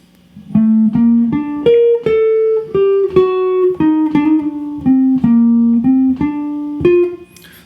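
A slow single-note guitar lick in G harmonic minor from a jazz tune, about a dozen clean plucked notes in a steady, unhurried rhythm with each note ringing before the next.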